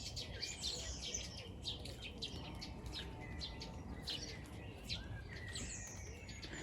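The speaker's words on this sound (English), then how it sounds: "Just nice to see a little thrush." A thrush, either a mistle or song thrush, sings in a country garden in England, with high, varied chirping phrases repeating throughout over a steady low background rumble.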